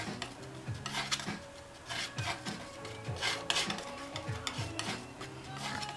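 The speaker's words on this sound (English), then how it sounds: "So we're going to mix all three of our basic colors except for white." Oil paints being mixed on a palette with a knife or brush, repeated scraping and smearing strokes in an uneven rhythm, close and moderately loud, with no speech.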